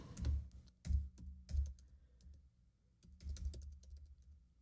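Someone types on a computer keyboard in short, uneven bursts of crisp key clicks, with brief pauses between groups of taps, close and fairly quiet.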